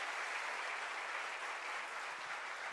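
Audience applause at a public talk, a continuous wash of clapping from a crowd that stays even and fairly soft for the whole stretch, with no one speaking over it.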